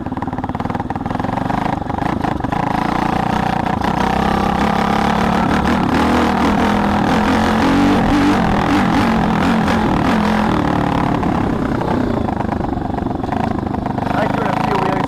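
A Tao Tao DBX1 140cc pit bike engine buzzes loudly and continuously while being ridden uphill, its pitch rising and falling with the throttle under rushing wind noise.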